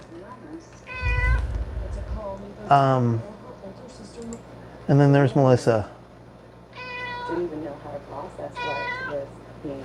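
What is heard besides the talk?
cat meowing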